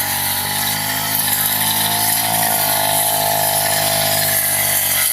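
A grass cutter runs during a barangay clean-up drive, its motor a loud, continuous buzzing drone with a steady pitch and no pauses, close by and alone.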